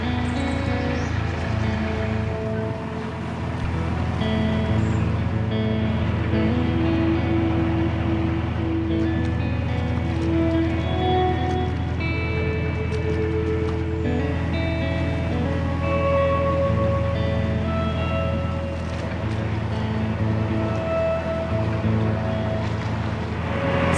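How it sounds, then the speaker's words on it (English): A steady engine drone and low rumble of a narrowboat moving through canal water in January, with wind and faint splashing, continuous and close throughout. "Boat coming towards us, a boat in front of us."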